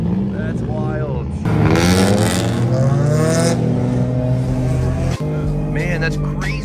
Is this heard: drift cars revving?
yes